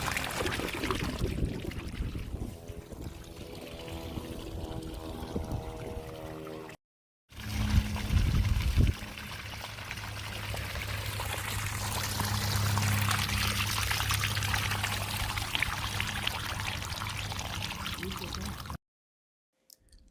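Water pouring and trickling out of a residential drainage pipe routed across a driveway, a continuous splashing flow heard through most of the clip with a person talking over it at times and brief breaks in the recording.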